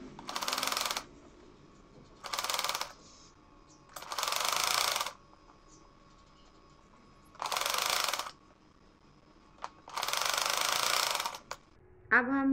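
Sewing machine stitching a neck design on fabric, running in five separate bursts of rapid, even whirring and clatter, each a second or so long, with quiet gaps between, heard up close.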